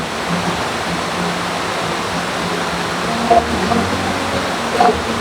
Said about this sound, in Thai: แล้วก็ฟังเสียงน้ำตกนะครับ